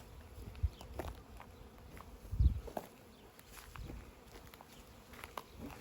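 Many honey bees buzzing around a backyard hive while a new package is installed: a continuous soft droning hum with individual bees passing near, plus a few faint thumps and rustles.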